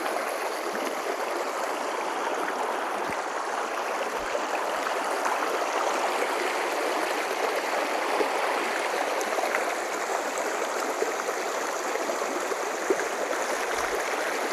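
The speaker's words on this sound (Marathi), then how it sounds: "या ठिकाणी थोडा वेळ मी माझा आवाज बंद ठेवणार आहे आणि हे पाण्याचा आवाज तुम्हाला ऐकायला मिळेल" Stream water gurgles and rushes steadily over rocks near the Radhanagari dam backwater on the Dajipur road near Hasane, a dense continuous flow heard up close with no voices.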